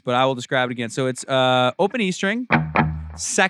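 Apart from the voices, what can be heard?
No distinct noise like a dog, phone or traffic.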